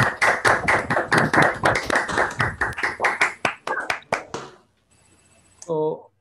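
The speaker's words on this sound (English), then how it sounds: "clap your hands" Hand clapping from online participants at an awards session, heard through unmuted microphones as a quick run of sharp, distinct claps that slows and stops, followed by a short electronic beep-like tone.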